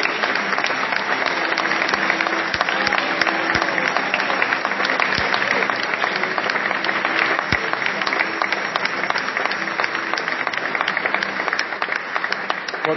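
Sustained applause from a church congregation during a dramatized contemplation of the Transfiguration, steady dense clapping throughout with a few sharper claps standing out, fairly loud and unbroken.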